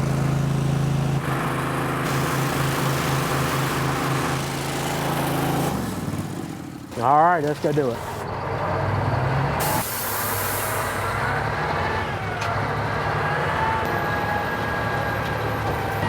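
A water truck runs at a Summit Bechtel Reserve work site, its engine droning steadily with a hissing spray and a sharp air-brake burst midway; a person speaks briefly.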